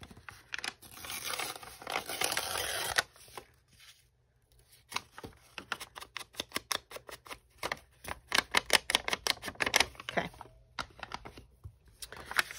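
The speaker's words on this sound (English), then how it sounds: "when you try to tear it like that, it doesn't always tear like it would if it was just the regular copy paper on its own" Paper sheets torn by hand for a multi-pocket paper stack, a long ripping tear first, then a pause and many quick crinkling, snapping tears in an irregular burst, close and fairly loud.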